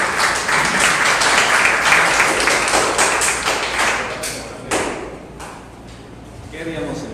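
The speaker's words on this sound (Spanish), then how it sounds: "Dese un aplauso." Church audience applauding during a sermon, a burst of dense clapping that swells near the start and gradually thins out over several seconds.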